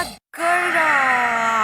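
A human voice imitates a wolf snoring loudly: after a brief silence, one long, drawn-out, groaning snore rings out loud and close.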